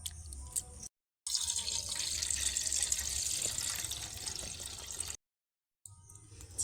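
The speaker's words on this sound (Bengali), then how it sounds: "এই যে ময়লা জলটা ফেলে দেবো" Dirty rinse water from washed flattened rice pours and splashes off into a sink, a steady close watery rush with brief silent gaps and some dripping.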